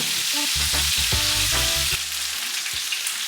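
Chicken searing in a hot pan for Jamaican brown stew chicken, a loud, steady close-up sizzle and crackle with faint shifting tones beneath, no voices over it.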